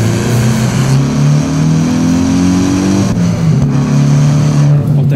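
A Hyundai i20 N or VW Polo GTI hot hatch engine revs loud and close, climbing steadily through the gear, dropping briefly on a shift, then pulling again with no talk over it.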